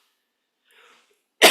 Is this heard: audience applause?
no